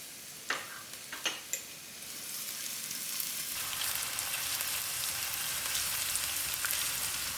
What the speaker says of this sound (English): Now I'll allow these onions to fry out till it's turning light brown.